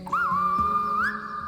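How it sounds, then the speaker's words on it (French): A man whistles a single sustained, steady tone with a short upward slide near the start and another near the end, calling a water buffalo, close and clear over a low background hum. "Là-bas, il siffle"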